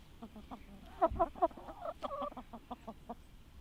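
Several chickens in a smallholding enclosure cluck softly and irregularly, with a louder burst of close clucks in the middle, over quiet outdoor background.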